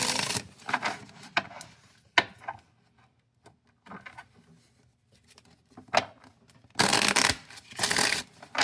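Kipper fortune-telling cards being shuffled by hand, a series of crisp riffling and sliding bursts, some short and some longer, close and clear with quiet pauses between.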